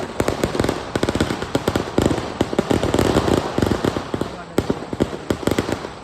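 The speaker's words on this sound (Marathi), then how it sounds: "सगळीकडे फटाके वाजायला लागले" Rapid, loud crackling pops of firecrackers go off continuously in dense bursts at a crowded village fair in Ratnagiri, with voices talking faintly underneath.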